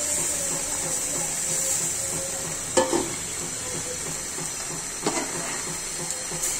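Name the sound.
potatoes and beef frying in oil with meat broth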